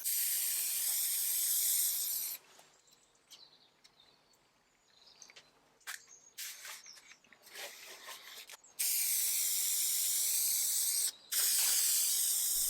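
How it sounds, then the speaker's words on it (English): Spray contact adhesive hisses from a can onto cupboard parts in long, loud bursts, separated by quieter stretches of faint handling noise and small clicks. "I used spray contact adhesive"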